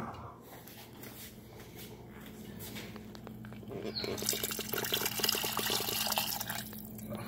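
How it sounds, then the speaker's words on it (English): Pan sauce gets poured from a pan into a pot of sauce in a home kitchen, a wet splashing and dripping pour that grows louder midway, with a voice talking faintly underneath. "I'm going to dump that into my pot over here that has sauce in it"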